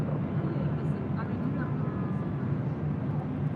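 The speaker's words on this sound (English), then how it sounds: "Southwest Airlines flight 2036 heading to SFO. 737 MAX 8, next departure on 24 left." A Southwest Airlines Boeing 737 MAX 8 takes off from runway 24 left at LAX, giving a steady loud jet roar and rumble that holds throughout.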